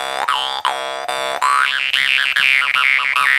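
Phantom jaw harp in its regular size without the ball, played with sharp plucks and a loud, reedy, robotic mid-range twang, the pitch sweeping up and down in repeated wah-like vowel shapes, close and alone.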